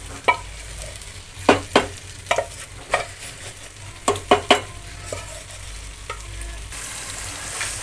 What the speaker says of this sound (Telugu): అంత వేసుకొని కలిపి పెట్టుకోవాలి మంచిగా.